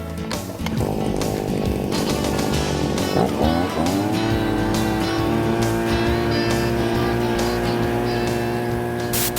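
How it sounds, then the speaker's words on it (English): A loud gas-powered ice auger drilling holes in lake ice for walleye fishing revs up and settles into a steady, droning engine whine, close by and constant throughout. "let's get drilling some holes here"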